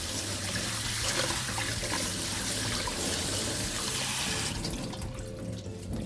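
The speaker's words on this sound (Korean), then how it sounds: "아까 소금물에 씻어줬던 굴을 흐르는 물로 이렇게 좀 씻어줄게요." Steady running tap water streams over oysters being rinsed in a sink, a continuous close splashing rush that turns brighter and more spattery toward the end; no voices.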